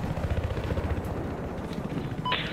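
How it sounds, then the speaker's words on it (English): A helicopter in the shooter Battlefield 4 thrums steadily with a rhythmic rotor chop, mixed with distant gunfire in a loud battle scene, and a brief electronic beep near the end. "I've got a chopper."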